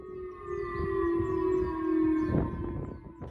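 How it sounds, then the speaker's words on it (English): A missile alert siren sounding in Okinawa, Japan, a steady sustained wail with rising and falling tones, heard at moderate distance with some background noise and no talk. "Residents of Okinawa, Japan were woken up on Wednesday to the sound of a missile alert."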